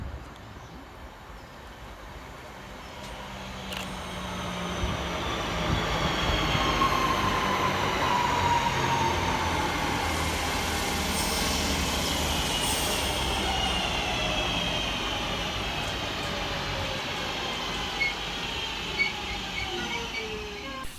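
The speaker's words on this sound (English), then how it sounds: "Arriving next into the station is 323-231, working the 1343 Northern service from Manchester Piccadilly through to Crewe." Northern Class 323 electric train arriving at Mauldeth Road station on a rainy day, a steady rising rumble of wheels and motors with faint squealing, sustained and fairly close throughout, no talk.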